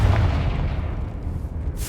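A Confringo fire spell explosion in Hogwarts Legacy sounds as a short heavy boom with low rumbling that fades over about two seconds.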